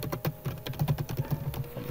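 A computer keyboard clatters with quick, uneven keystrokes while VB.NET code is typed for a download manager program, close and fairly soft, with no voices.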